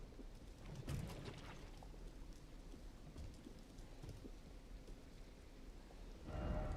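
Steady rain falling in a video game world, a dense continuous hiss with a few louder spatters, swelling slightly at the very end; no one speaks.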